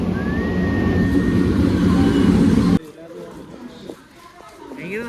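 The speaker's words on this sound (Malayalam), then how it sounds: "ട്രെയിൻ വന്നു ഗൈസ്." A train pulling into a railway station on a Kerala family trip to Guruvayoor: a loud, steady rumble with a faint high whistling tone lasts about three seconds, then it cuts to a quieter platform where people talk.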